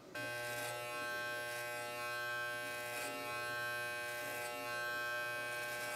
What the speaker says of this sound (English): we're gonna start with the clippers, the lever all the way open, so we're at the longest cutting length